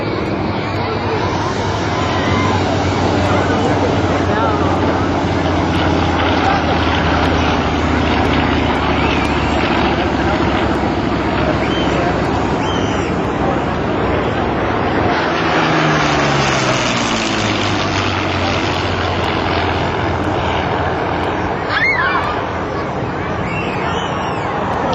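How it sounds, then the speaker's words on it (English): Warbird aircraft, including an H-34 helicopter and an L-39 jet, fly at a beach airshow, a continuous loud engine drone with propeller throb and a pass that swells and fades, while crowd chatter and a voice run beneath. "Get a great chance to hear these airplanes."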